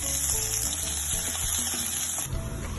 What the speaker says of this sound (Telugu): కడాయి పెట్టుకొని 2 స్పూన్ల ఆయిల్ వేసి తరిగిన అల్లం వెల్లుల్లి ముక్కలు